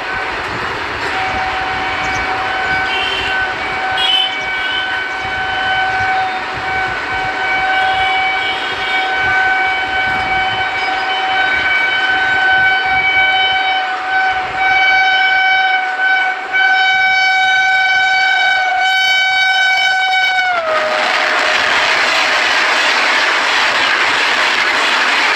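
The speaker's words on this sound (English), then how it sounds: "let us just see how the train runs fast" A train running fast on its tracks, a loud steady rumble with a sustained tonal horn-like drone that drops in pitch near the end as it passes, followed by broad rushing noise.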